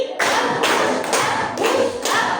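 Several loud hand claps in a loose rhythm, close and sharp, with no talking.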